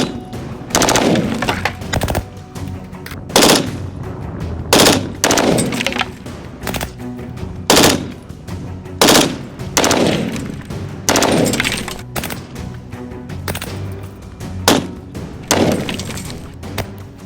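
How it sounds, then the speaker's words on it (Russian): Bursts of automatic fire from a CZ BREN-2 rifle aimed at a mannequin: sharp, loud cracks in rapid strings with short gaps between them, repeated about ten times and ringing out close by with a slight echo. "Но по манекену постреляем очередью."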